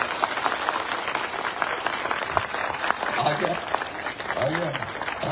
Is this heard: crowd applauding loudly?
yes